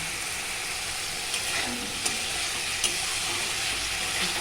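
Spices being fried and stirred in a pan before fish is added, a dense steady sizzle close up with a few light spoon knocks, and no one talking.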